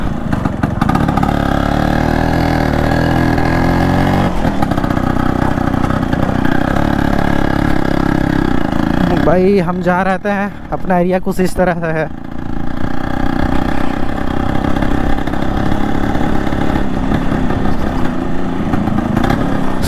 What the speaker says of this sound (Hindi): पहले तो हम जाएंगे गाड़ी के साइलेंसर को थोड़ा फिक्स करा लेते हैं क्योंकि ज़्यादा साउंड कर रहा है